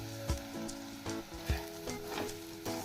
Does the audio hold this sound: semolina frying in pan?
yes